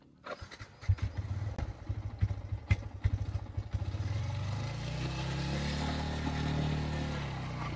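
A Yamaha MT-15 motorcycle chatters through a run of rapid, uneven pulses, then settles into a smooth, rising engine drone as it rides off, close and fairly loud with no talk.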